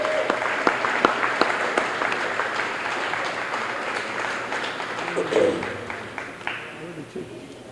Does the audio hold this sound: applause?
yes